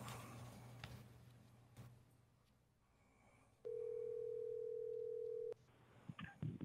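A telephone dial tone sounds at a school board meeting as a caller's line connects, a loud steady tone holding for about two seconds before cutting off abruptly, preceded by a low hum and faint room noise.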